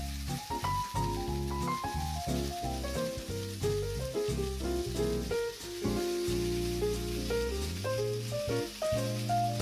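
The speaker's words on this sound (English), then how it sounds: "Add some crushed garlic and add your chops to the heated oil." Lamb loin chops frying in hot oil with crushed garlic, a steady close sizzle and crackle running throughout beneath prominent background music.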